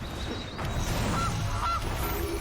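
A goose card in the MTG Arena digital card game lets out two short honking calls over a steady game background hum, close and clear.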